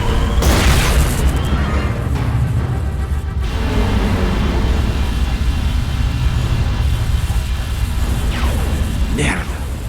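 Enemy dropship roaring overhead in the PSP game Resistance: Retribution, a loud continuous rumble with booming crashes and whooshes amid battle noise, a voice talking over it.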